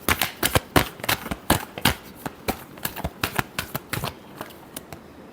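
Tarot cards are shuffled by hand in a rapid run of crisp, uneven riffling snaps, close and clear, with no talking over them.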